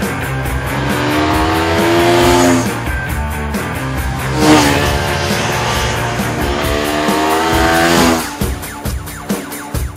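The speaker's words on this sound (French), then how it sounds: "cette mécanique de 247 cm3 qui donne un sérieux coup de fouet aux prestations dynamiques de ce scooter" A Daelim S300 scooter's 247 cc liquid-cooled, fuel-injected single-cylinder engine drones loudly while riding, its pitch rising and falling with the throttle in several surges.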